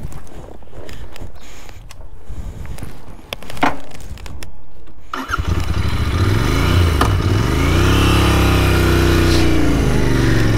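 Royal Enfield Continental GT 650 motorcycle ridden on an open road, a loud continuous engine drone with rising revs and wind after a quieter, clattering start.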